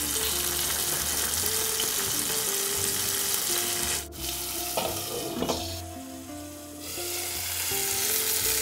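Square-cut chicken fillet pieces fry in a pan with a loud, steady sizzle that briefly dips and flares midway, close up and without speech.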